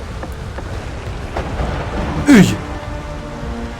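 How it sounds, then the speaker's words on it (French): Steady rain patters throughout while low thunder rumbles, and a brief vocal exclamation cuts in near the middle. "Il va pleuvoir."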